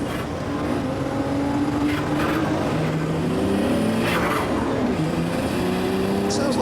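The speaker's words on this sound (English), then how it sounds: "that's the sound of two turbos which have been glued onto the Mondeo engine" A twin-turbocharged Ford Mondeo engine rumbles continuously from inside the cabin, its tone rising and falling as the revs change, with faint turbo whooshes.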